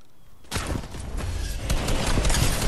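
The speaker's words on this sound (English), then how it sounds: "More shooting." Fortnite gunfire erupts suddenly after a quiet moment into a rapid, close, loud volley of shots that keeps crackling and building until the end.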